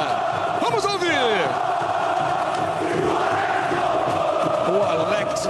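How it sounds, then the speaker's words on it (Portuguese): Coritiba football supporters chanting in a packed Brazilian stadium during a 2013 Brasileirão match against Fluminense, a dense continuous roar of crowd singing with whistles, under a commentator's voice. "Canta bonito a torcida do Coritiba. Vamos ouvir."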